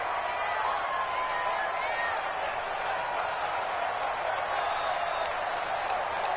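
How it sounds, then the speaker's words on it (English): A stadium crowd in a football video game roars steadily ahead of a big third down, a broad, constant cheer with faint whoops rising above it. "the crowd getting into it as we come up on a big 3rd down"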